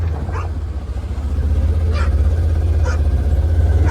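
Dog barking outdoors: three short barks at a distance, spaced about a second apart, over a loud low engine rumble that persists throughout, with no talking.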